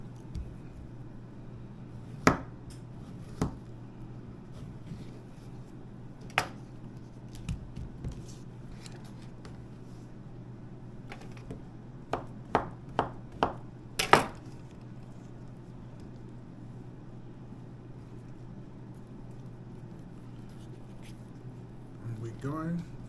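Pears sliced with a knife produce a series of sharp, brief cutting clicks, scattered at first then bunched in a quick run, close and fairly crisp over a steady low hum in a kitchen.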